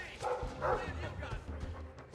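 A dog barks and yips in the video game Dragon Age II, close and moderately loud, mixed with game sound and a voice talking alongside.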